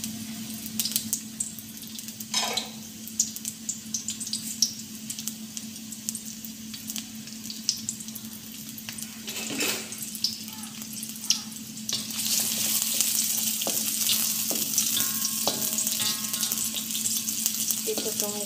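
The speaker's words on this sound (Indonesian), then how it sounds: "saya nak tumis sayur. Bawang merah, bawang putih" Vegetables sauté in a pan with shallots and garlic, a continuous sizzle with scattered stirring clatter, a steady low hum beneath, and the frying surging louder near the end.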